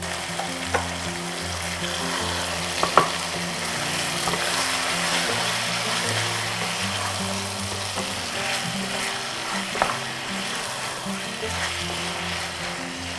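Marinated mutton sautés in hot oil with a continuous crackling sizzle, broken by occasional scrapes and knocks of stirring, close and moderately loud throughout.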